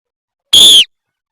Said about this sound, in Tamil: விசில் பண்ணுவேன்